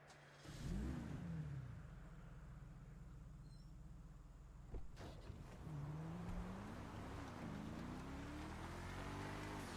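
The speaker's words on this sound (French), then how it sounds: "Tu peux démarrer le moteur, c'est fini." A car engine turns over and catches, settling into a low idle before revving up twice with rising, droning pitch, close and fairly loud with no talking.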